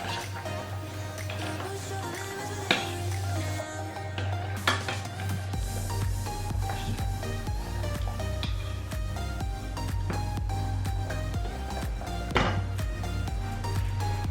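Mung beans are sautéed in a pan on a home stove, with a utensil scraping and clattering against the metal in steady strokes and light clinks over a low background hum.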